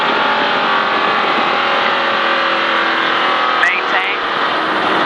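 A NASCAR race car engine in a racing game, a steady loud drone that dips slightly as the driver eases off the throttle, with a voice talking over it.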